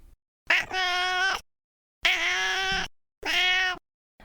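Three drawn-out cat meows, close and clear, each separated by a short silence.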